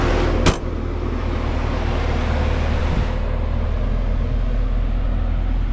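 A 2009 Cadillac CTS-V's supercharged V8 idles with a loud, steady low rumble throughout, close by, with a brief click near the start.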